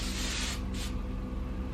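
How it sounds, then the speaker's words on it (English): Hairspray is sprayed onto the top of the hair from an aerosol can, two short hissing bursts in quick succession, the first longer than the second, with a low hum underneath. "with this hairspray, I shake it before I use it and then just spray about a foot away to the top of your hair"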